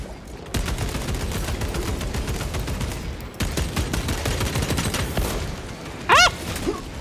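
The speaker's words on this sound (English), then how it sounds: "The absolute bombardment of these fuckers" Heavy gunfire bombardment in the video game Warhammer 40K: Space Marine 2, dense continuous rapid shots roaring loud and close, briefly breaking off before resuming, with a short sharp rising whine near the end.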